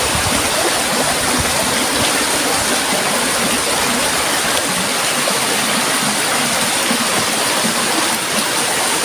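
A river flows in a loud, dense, unbroken rush of water, like a small cascade heard up close, steady for the whole stretch with no voices.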